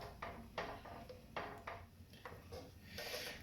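Double cream and marinade being stirred into a tikka masala sauce in a pan, with a series of scraping, clinking utensil strokes against the pan in an uneven rhythm, close and fairly quiet.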